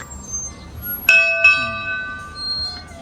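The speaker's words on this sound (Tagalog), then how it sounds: "na nagkakalimbang-kalimbang ng kampana" A temple bell at a Buddha shrine in Gerona, Tarlac is struck twice in quick succession, each ring bright and metallic with long sustained overtones that decay slowly over quiet outdoor background.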